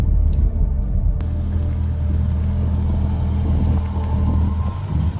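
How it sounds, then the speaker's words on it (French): A car drives across a bridge, a continuous low rumble of engine and tyres with a few faint knocks, steady and fairly close throughout. "On vient quand même de faire le pont qui est là avec la voiture"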